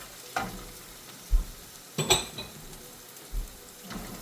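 Garlic and scorpion pepper frying in a pot for a dasheen bush dish, a soft background sizzle broken by a few close clanks and scrapes of a spoon against the pot.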